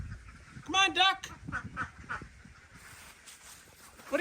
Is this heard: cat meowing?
no